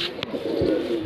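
A pair of Jiriya pigeons for sale in Mohanpur, Bareilly gives a soft, low cooing call, close by and brief, with no voices over it.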